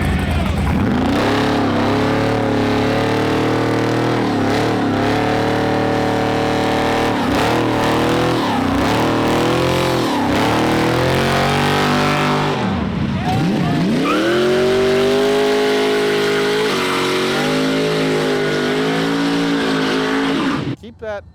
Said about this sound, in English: Hemi running, okay?